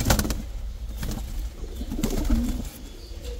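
Pigeons coo and flap their wings at a Baghdad bird market in Zafaraniya, with soft repeated cooing and bursts of flutter close by over a murmur of market background.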